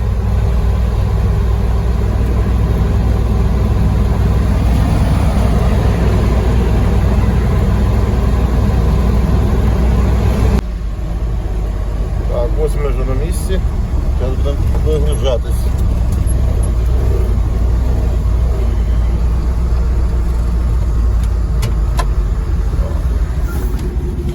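A GAZ 3507 truck engine drones loud and close while the truck is driving, a steady low rumble that drops slightly partway through and carries on, with a voice talking over it at times.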